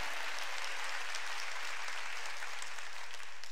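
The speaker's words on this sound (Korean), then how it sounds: "빨리 박수로 하나 할게요" A church congregation at a Wednesday worship service applauds in a continuous, even wash of distant clapping that fills the whole moment, with no voices over it.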